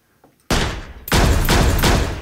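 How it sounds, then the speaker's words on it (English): Layered gunfire sound effects for the TV crime drama Person of Interest: silence, then a sudden loud burst, a brief decay, and a second heavier volley of rapid shots, close and dominant. "Reese's gun is made up of 3 mono effects and 3 stereo effects"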